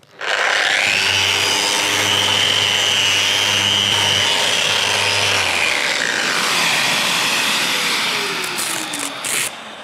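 Power sander running continuously on a painted surface with 240-grit paper, a loud steady whirring hum with gritty scraping texture that shifts in pitch as pressure changes, with no voices.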